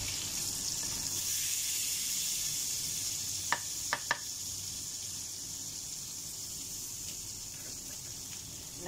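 Asparagus frying in butter in a pan, giving a steady close hiss and sizzle throughout with a few faint clicks near the middle and no talk.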